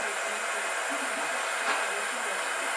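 A torch heats a ring for soldering, producing a steady, close hiss of gas flame that runs continuously without a break.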